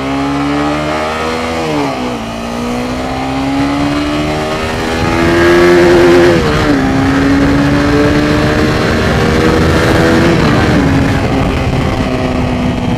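A 2015 Honda CBR 250R motorcycle engine revs up and shifts repeatedly while riding, its tone climbing through gears under a steady whining balancer hum and wind rush, loud and close.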